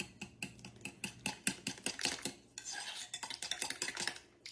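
A small spoon scrapes and taps repeatedly against a dish to clear out the last of the melted butter, producing a quick series of close, bright metallic clicks and scrapes with no talking.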